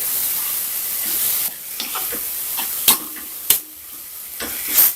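Ginger garlic paste being stirred into frying tomatoes for chicken biryani: a steady sizzling hiss broken by several sharp, close spoon scrapes against the pan, with no voices.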